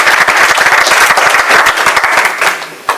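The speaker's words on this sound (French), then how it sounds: "Je vous demande de les acclamer." An audience applauds at the closing address of the JAIEI 2016 event: dense, steady clapping from many hands fills all three seconds, loud and close, fading slightly near the end.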